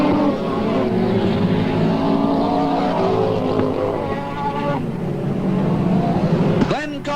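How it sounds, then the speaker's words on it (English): Speedway race cars at Parramatta City Raceway roar steadily through a sustained engine drone with shifting pitch as they run down the back section, while a race commentator talks over the noise. "Edward Dark in car number 73 flies down the back section from 2 as the race leader"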